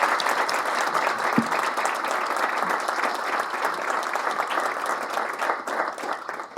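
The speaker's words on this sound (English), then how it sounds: "may I ask you for another big round of applause for Satya." An audience breaks into a big round of applause, many hands clapping densely and steadily at close range for several seconds, with no speech on top.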